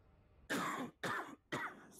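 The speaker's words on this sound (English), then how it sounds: "Sorry for the coughing, man." Three quick, harsh coughs come in a row, close to the microphone, each a short burst separated by brief pauses.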